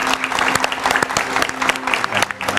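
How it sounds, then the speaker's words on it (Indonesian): A studio audience at an Indonesian evening political talk show claps for the guests, a steady, dense round of applause with sharp individual claps throughout and no voices over it. "Tepuk tangan yang meriah untuk narasumber saya pada malam hari ini"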